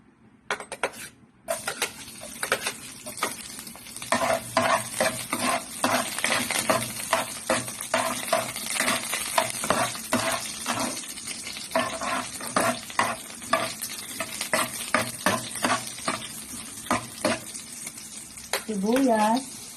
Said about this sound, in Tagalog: start na tayo maggisa ng bawang